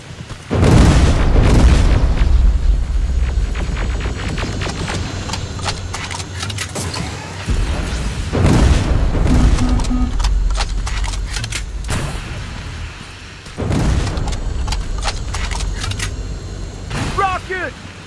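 Rocket explosions in the video game Terminator Resistance: several heavy, loud booms arrive in bursts, each one rumbling and then fading. Gunfire and a shouted voice run between the blasts.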